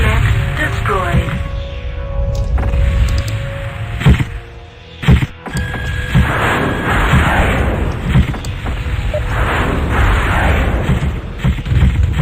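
An enemy mech blows up in the MechWarrior 2 NetMech game: booming, thudding explosion sounds over a dense, continuous mechanical rumble, with a sharp thunk partway through.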